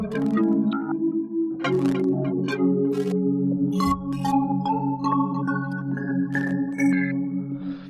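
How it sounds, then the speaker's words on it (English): Glitch effects rack chopping music through many quick effects in rapid succession, with stuttering tonal fragments, abrupt cuts and shifting pitched blips over a steady low sustained tone, loud and continuous. "this glitchify knob, which activates this rack over here that just glitches everything out"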